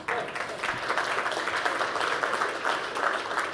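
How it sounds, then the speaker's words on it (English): Audience applause at a conservative political conference general session, a steady wash of clapping from a large crowd that holds at an even level throughout without anyone speaking over it. "clap on that, please, because I'm proud of that"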